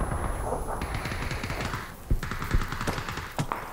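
Rapid video game gunfire during a squad match, with dense bursts of automatic fire and sharp, loud individual shots crackling close by.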